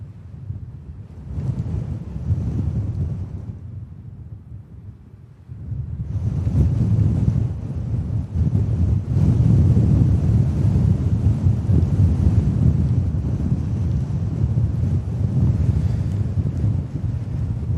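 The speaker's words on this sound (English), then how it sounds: "This wind, man." Strong storm winds from Storm Bram buffet the microphone at Manchester Airport, a loud roaring rush with a brief lull before gusts surge back and hold steady.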